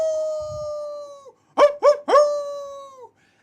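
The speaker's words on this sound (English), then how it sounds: "You hear howls coming from the fort." Howls coming from a fort: a long steady howl, a short gap, then a cluster of three quick yelping howls running into another sustained one, clear and fairly close, with no voices.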